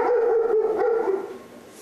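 A trained police service dog from a Russian district police K9 unit gives a single loud, drawn-out bark that trails into a fading howl, close by and alone.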